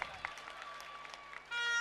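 Audience applause at a school event in Mali, a brief patter of clapping followed by a sudden louder, denser burst near the end.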